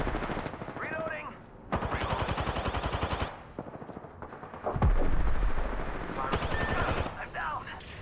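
Automatic gunfire in Apex Legends: rapid, loud bursts of shots with a clear rattling rhythm, broken by short pauses. A voice speaks between the bursts.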